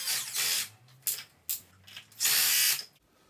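A wheel being fitted back onto a Traxxas Slash 4x4 RC truck, with several close, short mechanical ratcheting and clicking bursts separated by brief pauses, no talk.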